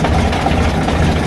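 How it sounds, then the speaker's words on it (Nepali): A tractor engine idles with a low, steady rumble and some vibration as the tractor descends a hillside track, close and loud, with no talk. "हामी ट्र्याक्टर कुदाएर हामी माथि डाँडाबाट ओह्रालो झर्दैछौँ"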